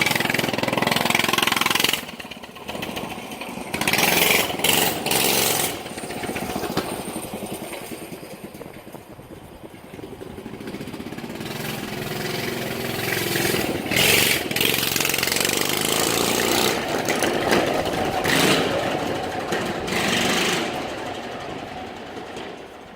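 A pocket bike fitted with a big-block 6.5 hp engine runs on its first test, loud and close, revving in bursts before settling into a rough, steady drone.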